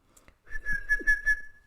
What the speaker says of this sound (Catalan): Xiular és fer això.